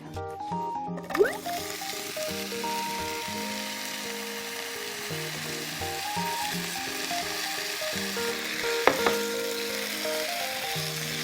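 A steady sizzle of soaked, starch-rinsed potatoes frying in a hot pan, with faint background music and a couple of brief clinks.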